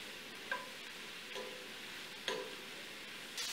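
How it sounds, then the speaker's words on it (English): Brussels sprouts sauté in a pan under a faint, even sizzle, with about four soft scraping stirs spaced through the short stretch. "the Brussels sprouts have sauteed here for maybe 7 minutes or so"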